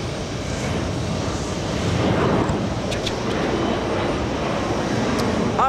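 A heavy jet airliner on approach to land at JFK airport sends a broad, continuous engine rumble that builds and holds close and loud, alone without talk.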